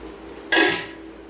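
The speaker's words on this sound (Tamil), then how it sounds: "இப்போ நம்ம வேக வச்சு தோல் உரிச்சிட்டு எடுத்து வச்சுருக்கிற பொட்டேட்டோவை வந்து இதில் சேர்த்துக்கலாம்." Boiled, peeled potatoes tipped into a pan of fried onions, one sudden clattering thud with a brief sizzle and metallic ring that fades within half a second, close and fairly loud.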